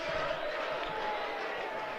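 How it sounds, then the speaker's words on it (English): Steady crowd chanting at a Lancashire Lightning versus Notts Outlaws cricket match, a dense continuous roar of many voices with a sustained tonal chant running through it, fairly loud and unbroken. "Crowd chanting."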